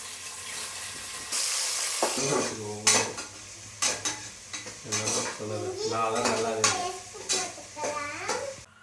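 Onions going into hot ghee and oil with spices in a pan for veg biryani, with a soft sizzle and repeated stirring clinks of a metal spoon against the vessel throughout.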